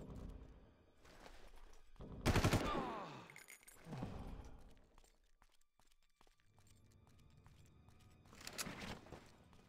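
Gunfire from a weapon in the video game Far Cry: a few loud bursts of shots, the strongest near the middle and another toward the end, separated by quieter stretches of game ambience.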